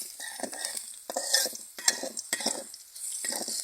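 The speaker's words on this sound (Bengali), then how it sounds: "এই পেঁয়াজটা ভাজা ভাজা হয়ে আইছে।" Onions fry in hot oil with a constant crackling sizzle while a spoon stirs them in repeated scraping strokes against the pan, close and fairly quiet, with no voices.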